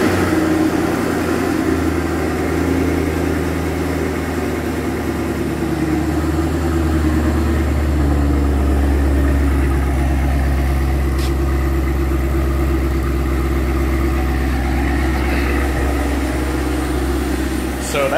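A Cadillac engine, fired up with a push start button, settles into a steady low idle that runs close and loud for the whole stretch, with a faint click near the middle.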